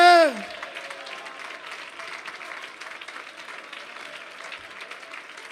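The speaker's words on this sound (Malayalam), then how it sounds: "കൈയടിക്കുന്നവർ നേരെ കൈയടിക്ക്" Applause from a church congregation during a Malayalam Christian sermon, starting right after a brief loud tone and continuing as a steady, moderate patter of clapping hands throughout.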